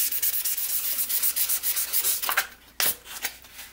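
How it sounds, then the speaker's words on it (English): Hand sanding lengthways with 1000 grit sandpaper: steady rhythmic rasping strokes close up, a brief pause, then a couple of sharper swipes. "Okay, here's the 1000 grit. And we'll go lengthways as well."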